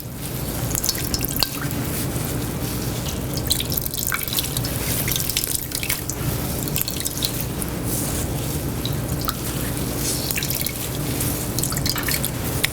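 Liquid drains from a wrung-out gnocchi mixture as a constant close trickle and patter of drips, running unbroken and fairly loud in a kitchen with no voices.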